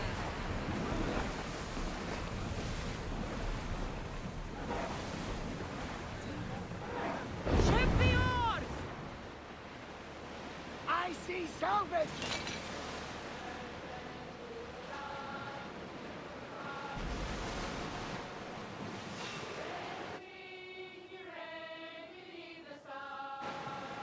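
Ocean waves and wind rush around a sailing ship as it sets out at sea in Assassin's Creed Odyssey, a steady loud wash with crew voices calling over it and a brief swell of noise partway through.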